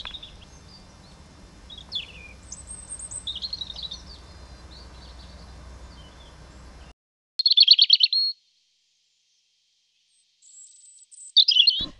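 Bright, clear European robin song played from a radio cassette rings out in short phrases separated by silence, with faint background hiss during the first part.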